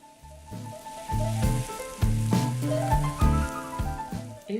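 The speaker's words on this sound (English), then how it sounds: "Cue the egg crack." Eggs and vegetables fry together in a pan for chicken fried rice, giving a close, moderate sizzle with a few knocks and clinks of utensils along the way.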